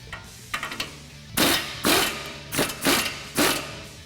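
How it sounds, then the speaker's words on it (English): A ratcheting socket wrench works loose a tie rod on a 2017 Ford F-150 Raptor, with a few light clicks followed by five loud, regular bursts of mechanical ratcheting close by. "Remove the tie rod with a 21mm socket."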